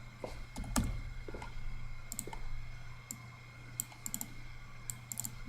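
Light, irregular clicks of typing on a computer keyboard come in short bursts and scattered single taps, fairly faint, with a steady low hum behind and no talk.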